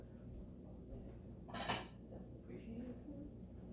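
A bowl clinks once against dishes in a home kitchen during hot sauce making, a brief, faint clatter over a low steady hum, with soft talking nearby.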